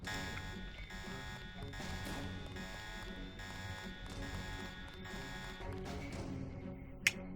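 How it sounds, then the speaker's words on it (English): An alarm sounds in the video game Deus Ex, a loud buzzing tone pulsing in regular on-off bursts throughout, ending with a brief sharp click. "He got to the alarm. That's what I was afraid of."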